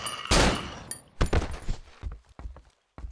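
Gunfire in the horror video game Cry of Fear: a loud shot opens, followed by a few more sharp reports and clattering impacts, then quieter scuffs and thumps trailing off.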